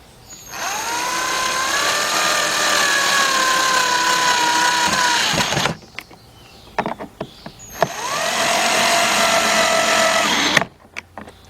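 A power tool tightens bolts during AC evaporator core replacement on a 2008-2011 Ford Focus, whirring loudly and steadily in two long runs of about five and three seconds, separated by brief clanks and handling noises.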